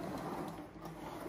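A 1960s Bissell 400 carpet sweeper rolls over carpet, giving a faint, continuous mechanical whir with light ratcheting clicks of its gears and brushes.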